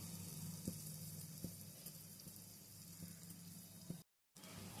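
Chana dal burelu, sweet fritters made with split chickpeas, frying in a pan of oil with a steady dense sizzle, a few soft regular taps over it and one brief dropout near the end.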